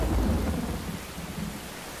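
A thunderstorm rolls with a deep rumble of thunder over steady, heavy rain, loud and close and with no voices.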